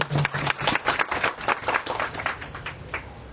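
An audience at a book fair event named for Shaheed Zia claps in a loose, uneven patter of hand claps, moderately close and sustained for a few seconds before thinning out.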